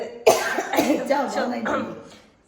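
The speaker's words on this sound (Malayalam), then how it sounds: "എനിക്കുണ്ട് ചുമ." A single harsh cough bursts out close by, followed by a raspy throat-clearing sound that fades away.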